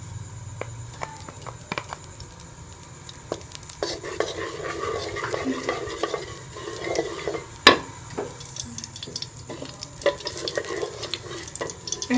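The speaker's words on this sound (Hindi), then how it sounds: "इसके साथ ही हम इसमें ये मूंग दाल का जो हम पीसा था ये हम डालेंगे और इसको अच्छी तरह से भून लेंगे कलर चेंज होने तक।" Coarsely ground moong dal roasts in ghee in a wok for halwa, with repeated scraping stirs and soft sizzling, plus a sharp clank partway through, close by and without voices.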